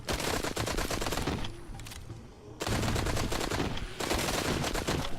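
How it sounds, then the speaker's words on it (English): Two fully automatic weapons fired together in the Arizona Sunshine VR zombie horde mode, loud rapid continuous bursts with a short pause midway before resuming. "I'm actually going to use 2 fully automatic weapons"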